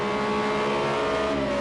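Project CARS 2 FIA GT3 race cars, McLaren and Renault, heading into turn 1: a loud, steady engine drone with sustained harmonic whine, close and unbroken, with no talking.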